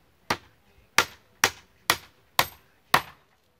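A carpenter's hammer drives nails into a wooden 120x80 cm pallet, with six sharp, evenly spaced strikes, each followed by a brief ring. The blows are close and distinct against quiet surroundings.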